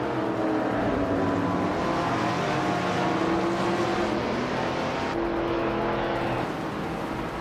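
Race car engines in a racing video game drone loudly and continuously, several overlapping engine tones rising and shifting in pitch as cars hold speed together, with no talk.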